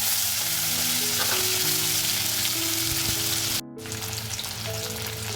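Long slices of raw green mango fry in a pan with whole mustard seeds and two green chilies, producing a loud, dense, continuous sizzle that cuts out for a moment, then resumes.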